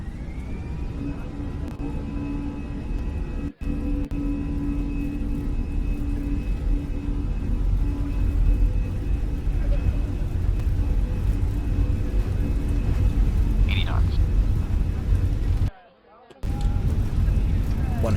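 Airbus A320 takeoff roll in the Fenix flight simulator, a loud steady engine roar with low rumble building down the runway, with a voice calling out speeds over it and a brief dropout near the end.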